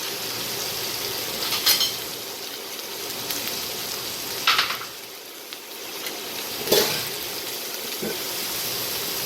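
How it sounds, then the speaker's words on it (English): Seasoned steak sears in a hot pan with a steady, noisy sizzle throughout, broken by a few sharper crackles and pops. "So, I'm going to let that cook or sear on each side."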